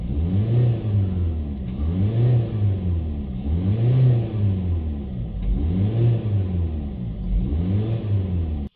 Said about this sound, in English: We'll just give it a few revs up and down like this.